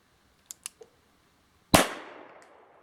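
A Russian magnum rifle primer fired by itself gives one sharp, loud pop with a quick fading tail, preceded by a few faint clicks.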